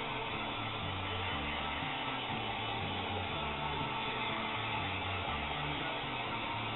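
A heat gun set on high reflows a PlayStation 3 board that has the yellow light of death, giving a constant close whooshing blower roar with no breaks.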